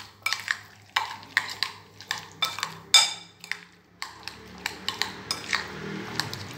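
Cream chaat ingredients, including sabza murabba and raisins, being stirred together in a bowl with a spoon, giving repeated close clinks and scrapes in a steady rhythm.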